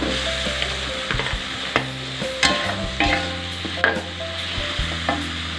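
Jengkol frying in cooked spice paste for Betawi-style semur, with a loud sizzle and repeated scraping stirs of a utensil against the pan at an uneven rhythm.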